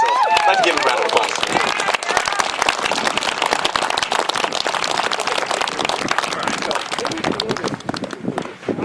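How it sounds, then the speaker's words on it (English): Audience applause at the 47th Annual Manzanar Pilgrimage in 2016, a broad, steady wash of clapping from a crowd that runs the whole stretch, fairly loud and close. "So I'd like to give him a round of applause"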